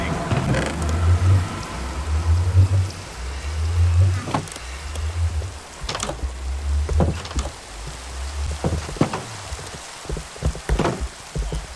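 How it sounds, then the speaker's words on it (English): Rain falling in the Minecraft video game, a steady hiss of rainfall with repeated low rumbling pulses and occasional clicks and thuds from gameplay. "And it's raining."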